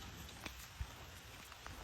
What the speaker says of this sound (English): It's been raining all morning here